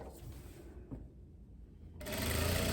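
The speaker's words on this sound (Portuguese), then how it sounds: "E vamos costurar o nosso ombro, nossa manga" A sewing machine starts up partway through and runs steadily, a close, even whirring hum while stitching the shoulder and sleeve seam of a loose batwing blouse, preceded by quiet handling.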